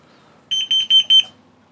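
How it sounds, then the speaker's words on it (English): A carbon monoxide alarm sounds four quick, loud, shrill beeps in an even rhythm, heard alone and close by in a quiet room. "is my carbon monoxide alarm, folks, so I know when there's too much carbon monoxide"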